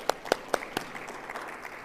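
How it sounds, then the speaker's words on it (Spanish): An audience at an education panel gives a short round of applause: a few sharp, separated claps at first, then softer, scattered clapping that tapers off. "también para la cual pedimos un fuerte aplauso"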